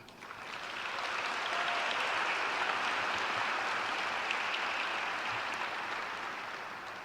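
Graduation audience applauding after a speech, a dense wash of clapping that swells in, holds steady for several seconds and then slowly fades.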